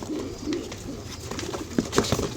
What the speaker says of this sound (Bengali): এই আট পিস পায়রা সেল হয়ে গেল